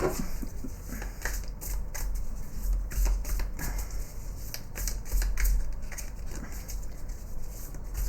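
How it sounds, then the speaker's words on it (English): Cards riffle and slap in quick, papery bursts, a large tarot deck shuffled repeatedly up close with brief pauses between rounds. "just shuffle these. This is a big deck."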